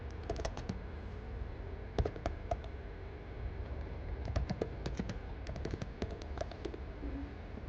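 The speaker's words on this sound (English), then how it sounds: "just ignore the random typing noises" Typing on a computer keyboard, heard as bursts of sharp, close clicks in quick irregular runs over a steady background hum, with pauses between the clusters.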